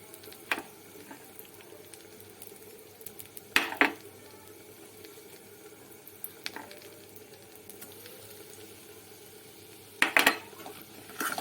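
Spices go into a hot pan of sizzling cumin while chicken is being cooked. A soft, continuous frying hiss is broken by a few sharp metallic clatters of a spoon stirring against the pan.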